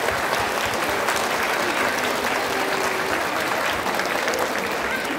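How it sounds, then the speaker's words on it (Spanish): Applause fills a civic event as the audience claps for the municipal president at the opening of a new security command and control centre in San Jerónimo Zacualpan, steady and dense for the whole stretch. "Un aplauso para la presidenta."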